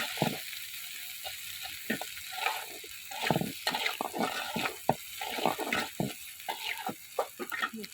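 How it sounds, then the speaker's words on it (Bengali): Prawns fry in a pan with soft, intermittent sizzling bursts and the occasional stir, fairly quiet and close, with no talking. "চিংড়ি মাছটাও ভাজা আছে, এরকম করে ভাজছি"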